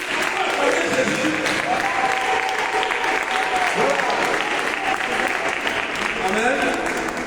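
A congregation applauding Jesus in the Notre-Dame de Lourdes chapel during a Saturday prayer service for the sick: dense, steady clapping fills the room without a break, with voices rising faintly through it.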